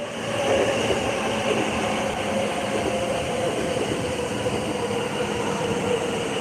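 A Yamanote Line train rumbles steadily past close by between Shinjuku and Shibuya in Tokyo, a continuous rolling roar with faint wheel and rail noise throughout, no voices.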